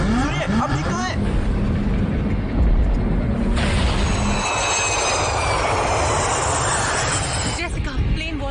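Airplane engines roar steadily in flight as the plane passes through a volcanic ash cloud, a loud continuous drone with voices speaking over it.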